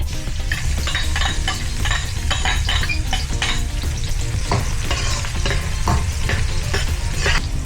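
Garlic frying in hot oil for camel meat caldereta, a loud continuous sizzle close by with repeated scraping stirs of a utensil against the pan.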